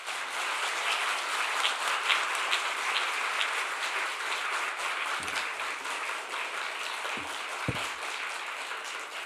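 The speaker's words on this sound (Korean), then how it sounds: "오늘도 나오실 때 크게 박수로 환영하면 좋을 것 같습니다." A church congregation applauds to welcome a guest pastor at a revival meeting, a steady, dense wash of many hands clapping at moderate distance, sustained throughout with a few louder thumps near the end.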